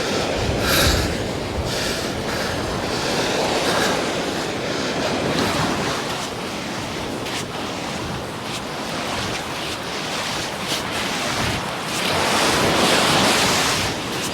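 Ocean surf washes steadily onto a beach, a continuous loud roar of breaking waves with surges swelling near the start and end, wind mixed in, no talking.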